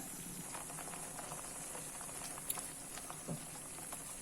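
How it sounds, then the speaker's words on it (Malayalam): Tomato puree sautés in a pan for a rajma dish, a faint, steady bubbling patter with a few soft ticks and pops, heard alone without voices. "Tomato puree അതൊഴിക്കാം. അതും ഇതേപോലെ നന്നായിട്ട് വഴന്നു വരട്ടെ."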